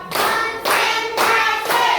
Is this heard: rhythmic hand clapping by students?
yes